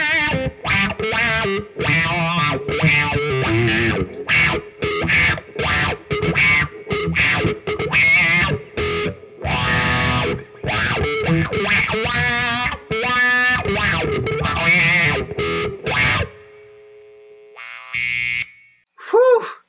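A distorted electric guitar plays through a wah pedal fitted with a yellow phasal inductor: choppy rhythmic strummed chords and sweeping wah tones, ending with sustained notes, noisy hum and a final bright burst.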